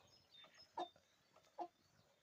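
Chickens and ducks cluck softly at a distance, with two short, sharper calls standing out from the quiet farmyard background.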